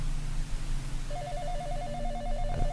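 A telephone rings in the horror video game Exanimum: The Silent Call, giving a steady trilling electronic ring over a low droning ambience, with no speech.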